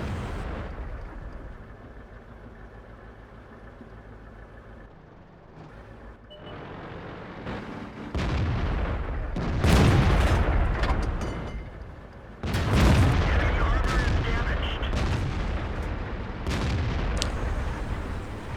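A 90mm Mikar autoloader fires in a tank battle game, loud heavy booms and blasts rising over rumbling engine noise, with bursts clustered in the middle and near the end.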